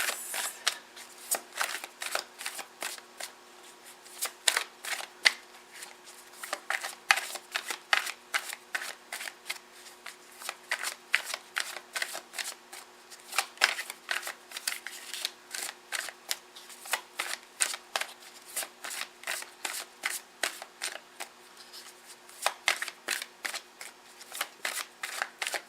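Tarot cards shuffled close by in a long run of crisp, rapid riffling flicks and snaps, coming in irregular bursts with brief pauses, with no talking.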